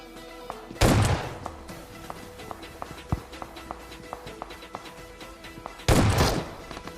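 Two sharp, loud shotgun blasts in PUBG Mobile, spaced about five seconds apart, with light tapping footsteps and small clicks between them and no voices.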